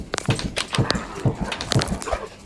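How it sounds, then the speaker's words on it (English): A large dog in a video game gives repeated short yelps and whimpering barks, several in quick succession at roughly half-second intervals, close and fairly loud. "That dog is so evil."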